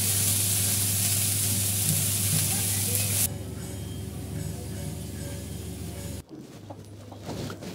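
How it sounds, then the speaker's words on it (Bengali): Potato and bitter gourd sizzle loudly in hot soybean oil in a pan, a dense steady frying hiss that drops in level partway through as the pieces are stirred, with a brief break near the end. "এই যে এখন আলু আর করলা দিয়ে দেওয়া হলো"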